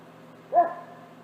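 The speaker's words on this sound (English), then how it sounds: "And the dog's barking in the background." A single dog bark in the background, short and fairly distant, standing alone over a quiet, steady room tone.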